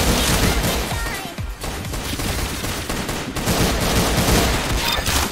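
Rapid gunfire bursts in the Roblox shooter Arsenal, loud and continuous with dense overlapping shots and crashes filling the whole stretch, no talk.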